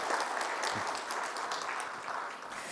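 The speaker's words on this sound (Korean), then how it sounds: "수고하신 모든 분들을 박수로 격려해 주시기 바랍니다." Applause for course graduates at a church completion ceremony, a steady moderate clapping from the congregation lasting throughout, slightly distant and without voices.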